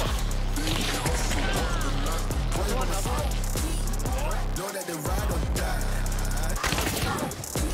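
Repeated gunshots and rapid weapon fire in the video game Hunt: Showdown, with a shotgun among the weapons, loud and dense throughout while players talk over the shooting.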